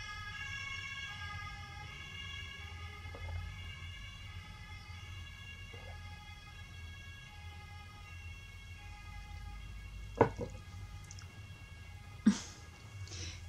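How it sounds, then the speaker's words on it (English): An emergency vehicle siren wails steadily outside, its long rising and falling tones drifting through at moderate distance for the full stretch, with a couple of short sharp knocks near the end. "Siren break."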